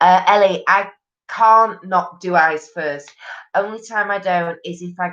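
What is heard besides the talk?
No everyday noise stands out behind the speech.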